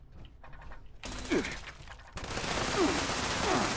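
Gun turrets fire inside Fallout 76, loud rapid bursts of automatic gunfire mixed with mechanical game noise that grows denser and steadier toward the end.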